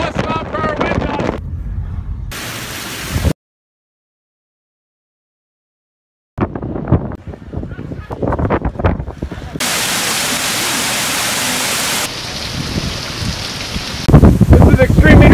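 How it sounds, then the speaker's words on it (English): Loud wind from 40-plus mph coastal storm gusts buffets the microphone and heavy rain roars, with rushing noise surging and dropping out briefly, and a voice talking over parts of it. "In the middle of a coastal storm gets battered by 40 plus mile per hour wind gusts."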